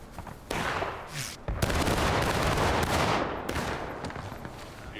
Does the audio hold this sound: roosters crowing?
no